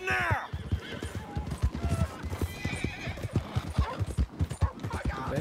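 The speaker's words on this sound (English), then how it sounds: "Why is this horse so fast?" Horse hooves clip-clop rapidly in a steady galloping rhythm in the video game Red Dead Redemption 2, opening with a loud whinny, with a few voices speaking over the hoofbeats.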